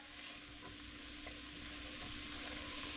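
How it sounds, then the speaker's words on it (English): Lentils being stirred in a pot make a steady, low scraping and sizzle, close and quiet throughout with no talking. "we're gonna put our lentils back in the pot. Okay, just giving that a nice big stir"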